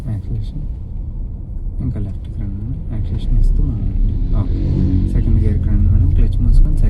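A learner car engine hums and rumbles, rising slightly as the car accelerates into second gear during a driving lesson, beneath a man's steady instructions.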